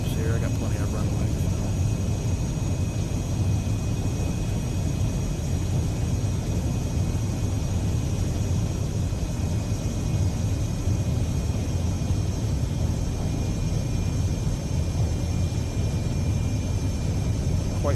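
A light aircraft throttled back on approach to a runway with half flaps, a steady low engine drone and rumble under continuous talking, with no distinct touchdown.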